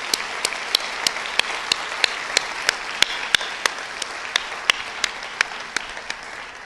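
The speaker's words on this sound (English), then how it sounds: "I'd like to recognize you again with another round of applause" Convocation crowd applauding steadily in a large hall, a dense wash of many hands clapping with a few sharper, closer claps standing out at a regular pace, no voices over it.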